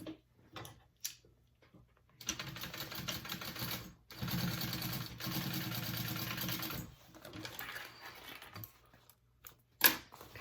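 A sewing machine stitches a convertible bag in bursts, a fast rattling run of stitches starting and stopping several times with pauses between them, close and moderately loud.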